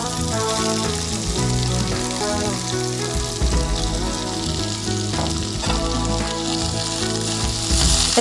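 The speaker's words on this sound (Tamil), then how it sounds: "சீரகம் பொரிஞ்சிடுச்சு வெங்காயம் ஆட் பண்ணுறோம்" Loud, dense sizzle of onions dropped into hot oil with cumin seeds in a pan, a continuous close crackling fry with faint stirring and no talk.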